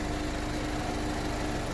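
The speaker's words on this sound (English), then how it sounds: "here's the old engine" The 2010 Chevy Equinox engine runs at a steady idle, a dense continuous hum and rattle, loud and close throughout with no voices.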